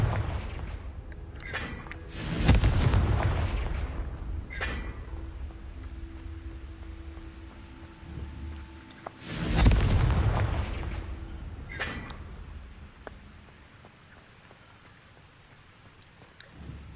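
Harry Potter blasting curse, Confringo, going off as two big booming explosions several seconds apart, each a loud broadband burst that rumbles and decays, with smaller cracks and debris-like crackle between them.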